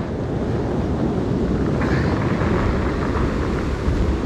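Heavy surf on a Baltic Sea beach rumbles continuously, a rough roaring wash of waves with wind buffeting the microphone, loud and steady throughout.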